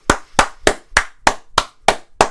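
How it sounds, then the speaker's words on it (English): Eight sharp hand claps ring out alone in a steady, even rhythm, each crisp and close with a short decay before the next. "Clap."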